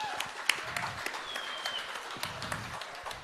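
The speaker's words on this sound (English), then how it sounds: "We can give you a round of applause." Moderate crowd applause for military veterans in a room of football fans, a scattered wash of clapping with some sharper individual claps, sounding fairly distant and fading in and out.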